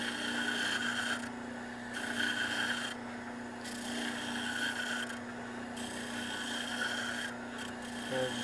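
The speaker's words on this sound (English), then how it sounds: "With the oscillating spindle sander." An oscillating spindle sander sands wood for a gun cart, giving a steady motor hum with a rasping grind that swells and fades in repeated passes, close and alone.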